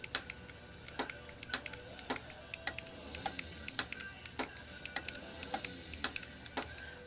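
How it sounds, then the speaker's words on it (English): A 12 VDC relay on a Logisys two-zone remote control switch, clicking in sharp, irregular ticks, some closely paired, against a quiet background. "So now I should be able to hit the relay on number two."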